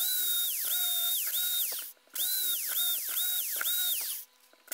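A power drill runs in repeated short bursts, its whine rising and falling as it bites into wood, boring holes for a wild bee nesting block, with brief pauses between holes.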